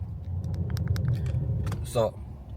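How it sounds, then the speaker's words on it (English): Sunday road traffic in Jamaica: a steady low vehicle rumble runs throughout, with a few faint clicks and a brief rising engine or tyre whine near the end. "I don't know what could have caused this traffic here today on a Sunday"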